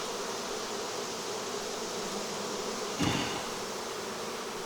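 Honey bees buzzing around an open, very strong hive in a summer apiary, a dense steady drone close by with one louder brief rise as a bee passes near.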